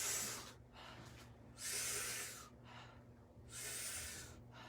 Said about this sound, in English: We're going to be doing 40 to 50 powerful breaths in and out through the mouth.